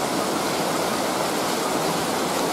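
Steady rain shower falling on a dry-season yard with hard clay soil on a hillside, a dense continuous hiss with no pauses, close and fairly loud, no voices.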